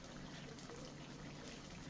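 Sauce bubbles in a pan with beef for a stir fry, making a faint, continuous fizzing simmer with small liquid pops and no speech.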